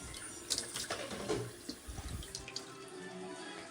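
Water poured off into a kitchen sink while cooking Swedish meatballs, a short splashing gush with gurgles and drips, fairly close and quiet, heard alone.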